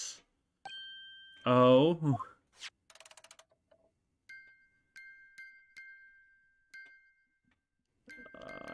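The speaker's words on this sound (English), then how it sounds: "the sound emanating from this music box" A music box in the video game The Great Ace Attorney gives sparse, repeated bell-like chimes in a slow, irregular rhythm, clear and close, following a brief vocal exclamation and short game sound effects.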